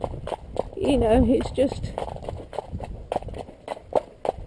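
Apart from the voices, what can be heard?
horse walking, hooves clip-clopping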